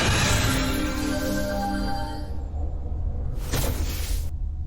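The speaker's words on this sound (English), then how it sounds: "And then you heard some crackling and some lightning bolts." Crackling electrical zaps and thunderous lightning bolts from a fantasy tabletop game session, a dense, loud rumbling crackle for about two seconds, then a sudden bright burst near the end.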